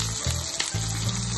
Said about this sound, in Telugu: ఉల్లిపాయలు కొంచెం వేగాయి